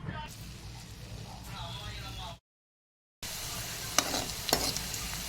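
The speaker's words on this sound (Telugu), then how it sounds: "ఆయిల్ వేడెక్కాక బెండకాయలను ఇందులో వేయించుకుందాం." Oil sizzles and crackles steadily as okra fries, with talking over it, a brief silent break, then louder sputtering pops.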